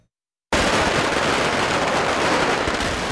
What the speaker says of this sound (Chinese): 民众热情冒雨体验炮炸邯郸的震天威力